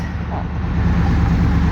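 Steady, even idle of a car engine just fitted with a new clutch fan, a close continuous low hum with no revving and no voices.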